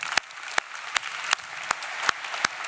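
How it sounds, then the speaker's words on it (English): Sparse applause from a panel-discussion audience, a handful of separate sharp claps spaced about half a second apart over a soft, steady background. "So let's give them a great hand of applause."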